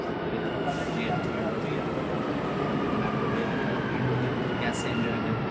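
A Dubai Metro train pulls into the station with a loud, continuous rumble and rushing noise for several seconds, a faint high squeal above it and muffled voices underneath.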